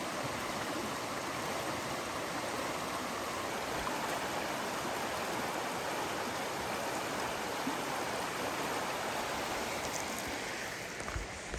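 Panther Creek rushes past near a campground, a broad, constant wash of flowing water that stays even and fairly loud for the whole stretch with nothing else standing out.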